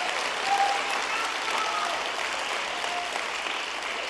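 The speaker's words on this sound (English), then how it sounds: "So he deserves a big round of applause just for getting through that." Applause from the audience at a swearing-in ceremony, even and sustained clapping from a gathered crowd, steady in level for the full stretch without voices.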